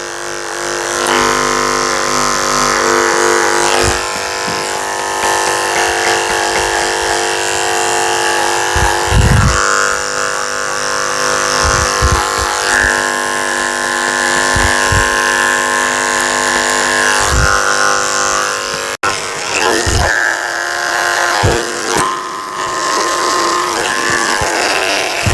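Electric clippers fitted with a #7 blade shave a toy poodle's face. They give off a steady, close buzzing hum, with brief dips and a few scraping thumps as the clippers move against the hair.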